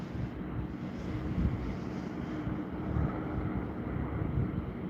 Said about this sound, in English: Oh, there's oh no, that's wind.